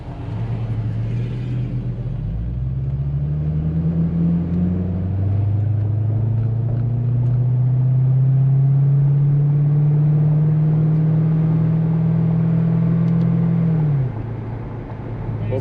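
Pickup trucks drive past at a shut-down car meet: a loud, low engine rumble that builds, rises in pitch and holds steady before dropping off near the end, with faint background noise and no clear talk.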